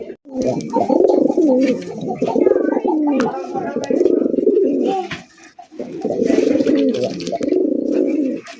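A pair of Kaldom pigeons cooing in repeated low, throaty bursts, close and loud, with brief pauses between calls.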